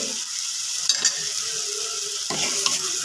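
Turmeric and masala stirred into sautéed onions for prawn theeyal, with a loud, continuous pan sizzle, a couple of utensil knocks and a brief scraping stir near the end.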